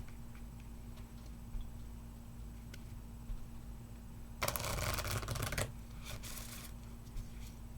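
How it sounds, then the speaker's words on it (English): A deck of tarot cards is shuffled in a quiet room, a crisp riffling burst of about a second standing out over a faint steady hum, with a few soft ticks and taps before and after. "Sometimes it takes a little bit longer to shuffle."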